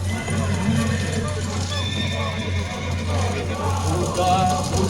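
A white horse whinnying during a Kecak dance performance in Bali, a few rising and falling neighs over a steady low hum and the murmur of a crowd.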